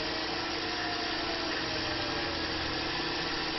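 A Tormach PCNC 1100 CNC mill with its spindle at 3000 RPM cuts a full-depth pass at a steady feed, giving an even, continuous mechanical hum and whine with no change in level.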